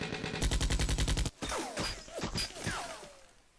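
Gunfire effects in the Divided Ground Vietnam War wargame: a rapid burst of loud, evenly spaced shots, then sweeping whooshes and scattered impact sounds trailing away.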